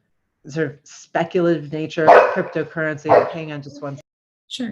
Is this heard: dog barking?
yes